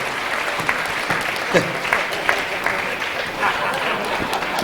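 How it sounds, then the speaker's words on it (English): An audience applauds at an anniversary show, a steady wash of clapping that holds at even volume throughout, with scattered louder claps and faint voices mixed in. "Everybody give him a big round of applause."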